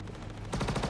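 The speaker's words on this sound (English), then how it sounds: "I'm just here taking bullets to the cockpit." Rapid bullet impacts pelt a spaceship cockpit in Star Citizen, a sudden burst of close, dense rattling hits that cuts in halfway through a brief quiet moment.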